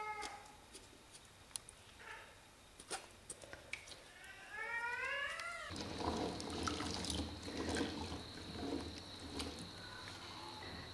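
Pickling shallots are rubbed hard by hand and washed in water, giving scattered soft clicks and a few squeaky rubs. A steady, close splashing of water follows.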